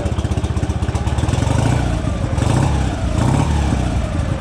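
A motorcycle engine idles steadily after a choked start, a close, continuous low throb with a fast regular pulse and no talking over it.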